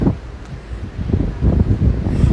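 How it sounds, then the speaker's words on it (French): Wind blows outdoors on a fine day, buffeting the microphone in uneven low gusts that grow stronger toward the end. "Il fait beau, il y a du vent, ça fait bien."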